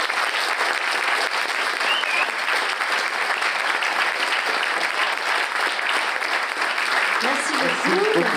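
An audience at a film festival meeting applauds an actress with steady, dense clapping that fills the room throughout, with a voice briefly heard near the end.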